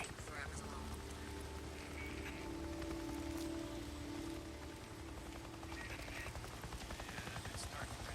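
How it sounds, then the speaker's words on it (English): Helicopter rotor thrumming steadily overhead in the video game Days Gone, a low continuous drone with light rain pattering over it and a voice talking now and then. "I gotta place a tracker on that chopper."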